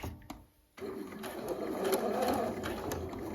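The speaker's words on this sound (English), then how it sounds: "You're just gonna sew like you regularly would." A domestic sewing machine stitches slowly with a twin needle and three threads. After a brief near-silent pause, its steady close-up whirring hum runs continuously.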